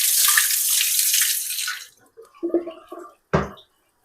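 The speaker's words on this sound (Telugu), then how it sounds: "ఇప్పుడు ఈ వాటర్ అంతా తీసేస్తున్నాను." Water is poured off washed drumstick pods, a rushing splash for about two seconds, then a few small drips and clinks, ending with a brief sharp knock, all close by.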